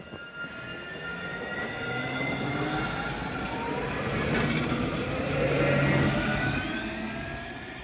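A Nottingham tram runs across railway points at Highbury Vale, giving a steady rolling rumble with wheel squeal and rising, falling metallic tones that swell and fade over several seconds, with no talk.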